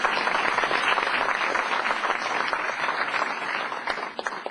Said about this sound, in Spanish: Les damos un aplauso a los muchachos